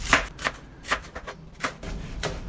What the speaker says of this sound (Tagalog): So hiwain ko lang dito ng maninipis